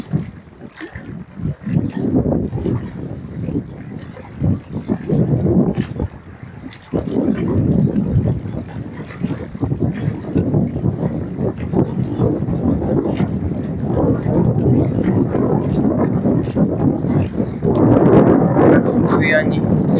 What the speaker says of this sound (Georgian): ქარი უბერავს